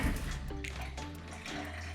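Water from a faucet with newly replaced seats streams steadily and close, the flow shifting slightly as the handle is turned toward off, with no talk over it.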